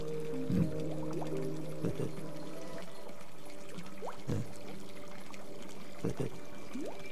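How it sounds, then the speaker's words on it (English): Water pumped out in the video game Samorost 3: a soft pouring, trickling flow runs through the whole stretch, with faint gurgles and small whooping tones from the game scattered over it and a voice murmuring briefly. "So I can pump water out of that."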